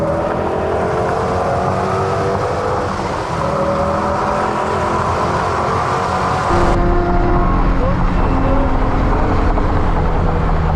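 A race car on a track powers out of a corner, its engine droning loud and steady with rising harmonics as it accelerates, continuous throughout with no talk.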